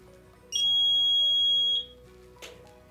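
A Krah E-Box 23+ welding device gives one long, bright electronic beep of about a second and a half. A faint short sound follows, with quiet background hum and no talking.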